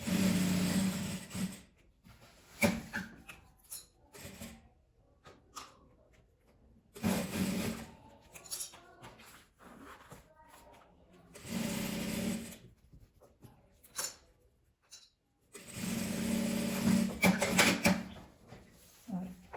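A sewing machine with a size 16 needle stitches through several layers of fabric for a hanger-style bra holder, running in bursts of rapid mechanical rattling separated by short pauses.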